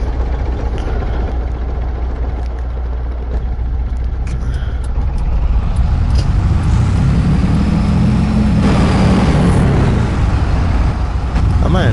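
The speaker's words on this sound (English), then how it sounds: "This is a loud semi-truck." Loud semi-truck engine in the Farming Simulator 22 video game, a steady heavy rumble that swells and grows louder partway through, with a roaring surge near the end.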